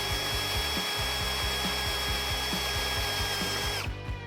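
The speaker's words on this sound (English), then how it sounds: "Now go ahead and finish drilling the remaining 3/8 inch holes." A power drill whines loudly and continuously, with a rhythmic grinding chatter as the bit bites through a metal truck cab roof on a Chevy Silverado or GMC Sierra, drilling 3/8 inch holes, before winding down at the end.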